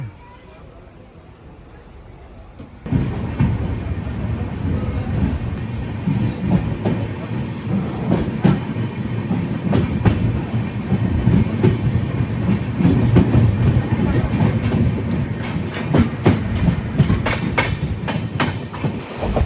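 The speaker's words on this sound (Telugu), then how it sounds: "సిగ్నల్ వచ్చింది మన బండికి, బయలుదేరదాం." Kamrup Express pulling out of Jalpaiguri Road station, starting after a quiet moment with a sudden rise into steady rumbling and rhythmic clickety-clack of wheels over rail joints, loud and continuous, with a voice talking over it.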